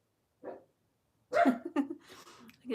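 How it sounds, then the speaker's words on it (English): A short yelp is followed after a pause by a cluster of bark-like yaps, fairly faint and a little distant. "I think you can hear other dogs barking"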